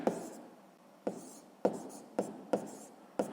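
Pen on paper jots down a sixth-grade math answer in a quick series of six crisp strokes with light scratching between them, close up and quiet, with no talking.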